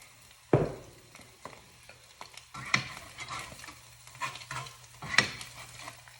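A fried egg cooks in a pan, and scattered sizzling crackles and pops come through at close range amid light spatula or pan scrapes. Nobody talks.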